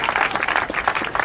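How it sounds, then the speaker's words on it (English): Short burst of audience applause and clapping for contest winners, dense and steady throughout with faint crowd noise mixed in. "Give them a round of applause."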